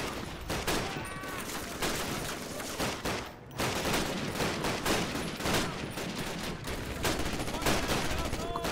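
Dense sustained gunfire rattles through a Call of Duty 1 World War II battle, bursts of machine gun and rifle shots layered continuously with a brief lull partway through.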